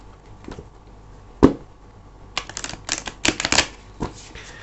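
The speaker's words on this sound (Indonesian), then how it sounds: "kita akan shuffle dulu ya kartunya teman-teman" Tarot cards being shuffled by hand for a love reading, a close, dry run of riffling and slapping clicks that comes in uneven bursts, with one sharp tap partway through.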